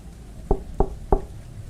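Three evenly spaced knocks on a door, close and hollow, over a quiet background, used as a horror story sound effect.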